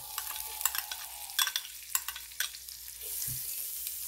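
Margarine melting and sizzling in a hot pan, a soft frying hiss broken by scraping stirs and clacks of a utensil, nearby with no voices.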